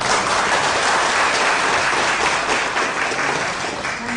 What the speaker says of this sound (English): let's just give a big round of applause